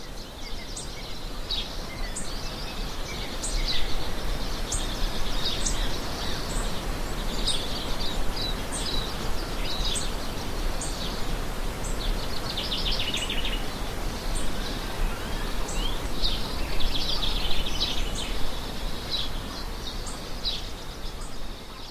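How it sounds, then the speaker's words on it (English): Birdsong on a farm property in New Zealand, with many small birds chirping and trilling continuously at moderate distance over a steady outdoor background hiss. "I leave you with the sounds of birdsong from Paula and Brendan Cross's property"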